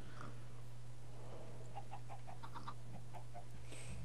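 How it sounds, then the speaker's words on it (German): Soft clucking from chickens in the Minecraft Feed The Beast modpack, a short run of quiet repeated clucks over a steady low in-game hum. "Die Hühner legen als Eier."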